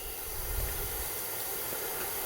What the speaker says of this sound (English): Can hear the sizzling.